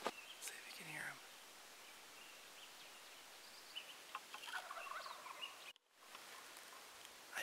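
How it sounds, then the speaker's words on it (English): Wild turkeys gobble faintly in the distance outdoors during a spring bear hunt, a couple of brief rattling calls near the start over quiet ambient rustling, with soft whispering nearby. "there's turkeys. There's always turkeys. Let's see if you can hear them."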